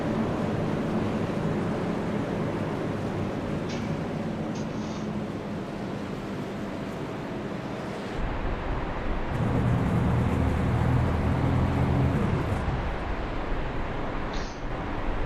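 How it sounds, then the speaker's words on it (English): A stock car lapping Talladega Superspeedway in a racing game gives a steady, loud engine drone that drops and changes character partway through as the driver cuts the engine, then picks back up, with no talk over it. "You can actually hear him cutting the engine as he's going around."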